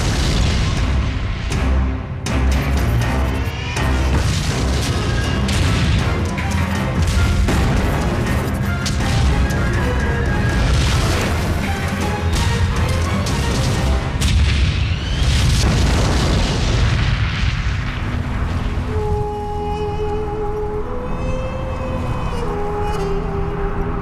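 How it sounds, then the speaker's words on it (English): Tank battle in open desert during the 1991 Gulf War, with dense, continuous explosions and artillery blasts rumbling one after another, loud and close, thinning out near the end. "Two tank armies clash on a remote strip of desert"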